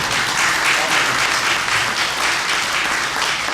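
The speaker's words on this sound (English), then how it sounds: "yes, you can clap for Medgar Evers" Loud, sustained applause from a large audience, a dense continuous patter of clapping with no pauses.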